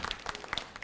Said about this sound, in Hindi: तालियां बजाएं जी।